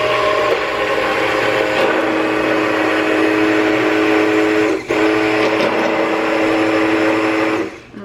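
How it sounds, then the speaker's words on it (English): An immersion blender whirring in a kitchen, blending tomatoes, a loud continuous motor whine with steady tonal hum, briefly dipping midway and winding down at the end. "Okay, so I got my immersion blender."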